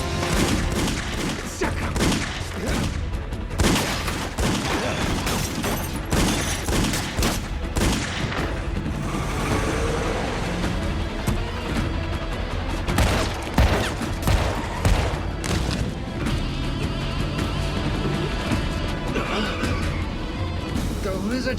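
Gunfire erupts in a shootout, with dense bursts of loud shots and booms crackling repeatedly over about twenty seconds while voices shout in between.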